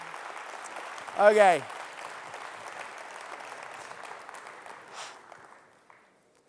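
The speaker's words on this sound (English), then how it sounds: "Please give them all a rapturous round of applause for that." Audience at an agency quiz show applauds the contestants as they leave the stage, a steady wash of clapping for about six seconds with a brief spoken word near the start before it tails off.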